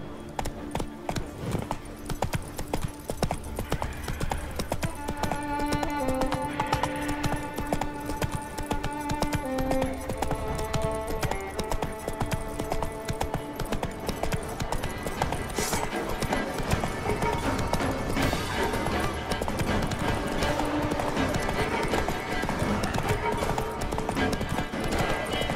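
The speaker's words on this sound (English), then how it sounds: "Fast, Roach" A horse gallops with rhythmic clip-clop hoofbeats throughout a ride in the video game The Witcher 3: Wild Hunt, set under a constant bed of game music and ambience.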